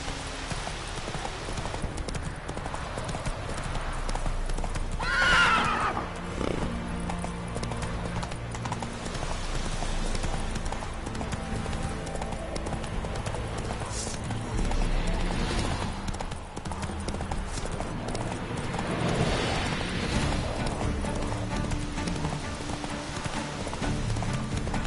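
In a PS4 video game, a horse gallops with steady clip-clop hoofbeats over a continuous game soundscape, the rhythm holding throughout with occasional swells.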